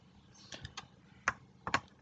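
A few scattered keystrokes on a computer keyboard while filling in an online ration card application form. They are light, close and irregular, with no voices.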